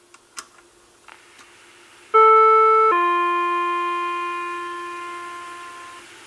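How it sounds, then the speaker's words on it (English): NuTone IM5000 intercom chime module ringing a two-note ding-dong, loud and clear, with the second tone ringing out and slowly fading after a few faint clicks. "And let's go ahead and ring our Chime module."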